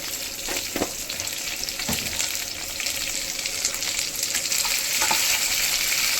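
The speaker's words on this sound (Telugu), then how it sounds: "ఇది బాగా ఫ్రై అవ్వనివ్వాలి." Fish pulusu masala of onions, tomatoes and peanuts frying in oil in a pan, a steady close sizzle with occasional stirring scrapes and clicks.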